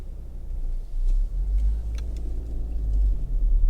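A Honda Civic 1.4 i-VTEC S-T five-door drives along a road, its cabin filled with a low steady rumble of engine and road noise that swells slightly under light acceleration.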